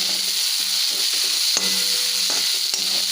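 Onions sautéing in a pan for Tamil-style beans poriyal, a steady close sizzle and frying hiss running throughout, with a few light clinks of stirring.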